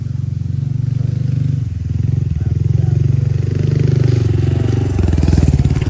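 Honda Trail 125 Hunter Cub motorcycle crossing a bridge on a trail, its single-cylinder engine putting along loud and close with a steady low throb, plus clattering and scraping over the deck, and a voice talking over it.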